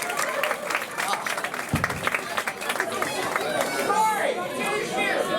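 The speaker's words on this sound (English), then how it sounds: "Give yourselves a round of applause for doing that." Audience clapping and cheering after a magic trick at a live show, a loose burst of applause mixed with crowd chatter and murmuring voices throughout.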